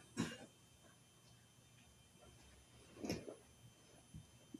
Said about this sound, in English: I thought I heard somebody cough.